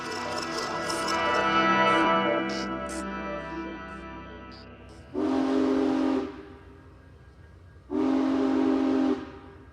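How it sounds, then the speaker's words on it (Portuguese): Train sound effect: a rumbling passing train with clanking rail noise, followed by two long, loud steam-style whistle blasts with a short gap between them. "Todos os dias, Lima Barreto se espremia num vagão de trem em direção à cidade."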